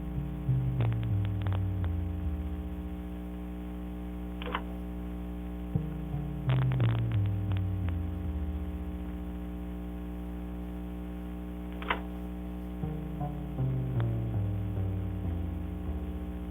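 A deep synthesized string bass plays a slow line of low, muffled notes through a low-pass filter, with the high end filtered away and a constant hum underneath.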